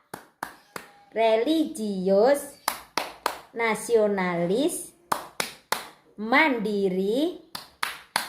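Sharp hand claps in a rhythmic classroom clapping chant, Tepuk PPK, with claps punctuating a teacher's sung and spoken chant words in a steady pattern of single and grouped beats.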